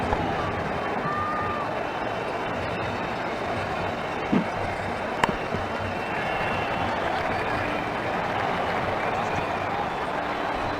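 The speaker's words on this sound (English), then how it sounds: "The crowd really enjoyed that." Steady crowd roar from a cricket stadium in the video game Ashes Cricket 2009, a broad continuous wash of noise that holds level throughout, with a couple of brief sharp knocks near the middle.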